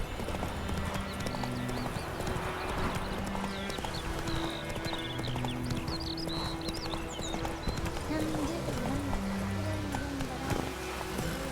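Clip-clop hoofbeats of a horse galloping in The Witcher video game, a loud, rapid, continuous rhythm with occasional whinnies, game sounds and voices over it.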